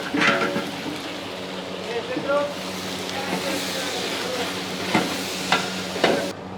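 Onions, green chillies, cinnamon and cloves fry in ghee for a large 15-kilo batch of Nellore-style mutton biryani, with a steady sizzle and occasional scraping stirs of a ladle in a big pot, and a voice over it.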